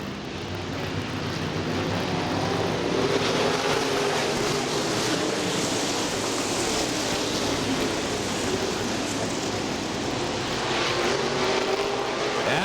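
Super late model race cars roaring around a dirt track at Butler Battlegrounds in Quincy, Michigan, a dense continuous engine drone with rising and falling pitch as the pack passes, loud and steady throughout.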